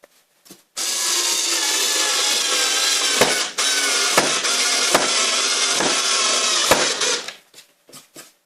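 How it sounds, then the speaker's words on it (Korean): An electric screwdriver drives screws through plywood into the base of a wooden assembly box, making a loud, continuous buzzing whir for several seconds with brief dips and clicks before it stops. "전동 드라이버로 이용해서"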